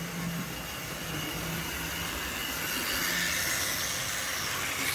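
Model steam locomotive running on a train set, a continuous hiss and rattle with faint chuffing and occasional tonal hum, moderately loud and close, no talking.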